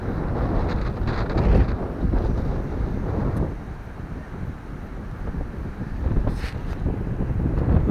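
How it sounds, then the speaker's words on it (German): Steady wind buffeting the microphone over a broad rush of water and small waves at Maspalomas, Gran Canaria, continuous and fairly loud throughout with no voices. "Bisschen Wind, ein bisschen Wellen"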